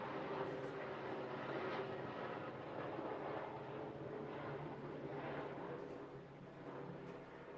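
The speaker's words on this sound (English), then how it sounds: "can you hear that? Helicopter or something?" A helicopter passes by outside, a faint, steady, distant rumble lasting the whole stretch and slowly fading near the end.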